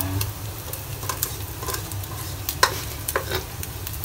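Cooked rice being stir-fried in a pan with fried egg for nasi goreng: steady frying sizzle under repeated scraping and clacking strokes of a spatula against the pan, close and moderately loud.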